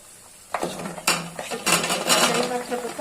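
Flat beans, potatoes and ghagra tipped into a pan of cooked-down spices, with a couple of sharp metal pan and utensil knocks followed by a soft rising sizzle and stirring, close by.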